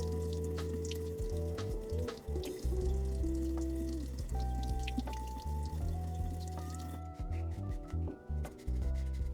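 A sink tap runs water over a Hydro Flask bottle covered in vinyl matte stickers. The stream splashes and gurgles up close, and its pitch shifts unevenly as the bottle is turned beneath it.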